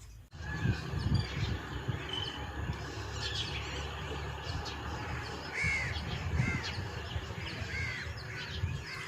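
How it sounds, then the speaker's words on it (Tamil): Crows and sparrows call together from a guava tree, repeated harsh caws and bright chirps at close to moderate distance over a dense, steady chatter of birds. "இந்த காக்கா குருவி எல்லாம் சேர்ந்து கத்தும்போது அது ஒரு மாதிரி நல்லா இருந்துச்சு."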